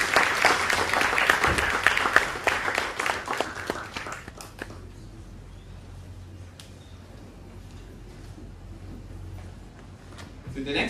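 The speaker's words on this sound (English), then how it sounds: "Please give him a round of applause." An audience at a debate on drug prohibition applauds a speaker taking the stage, with dense clapping for about four seconds that then thins to a quiet room murmur before a few claps return.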